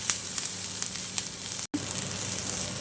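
A green chilli sizzles and crackles in a hot pan while being stir-fried for a Manchurian dish, with steady frying hiss and occasional sharp pops, broken by a brief moment of silence.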